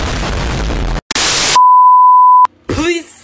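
A smoke alarm from a large collection gives a single steady beep lasting about a second, set between short bursts of harsh noise and followed by a brief voice-like sound.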